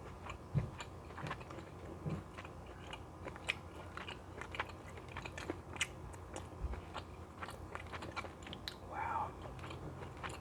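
Crunchy, close-up bites and chewing of kale and turkey with onion, garlic and red pepper flakes come in a series of soft, irregular mouth sounds. One brief spoken exclamation is heard.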